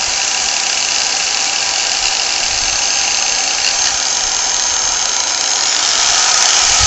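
A Maxshine M1000 rotary polisher, a 1000-watt, five-inch machine, running at speed setting four, giving a loud, steady, close motor whine with a broad hiss that holds constant throughout.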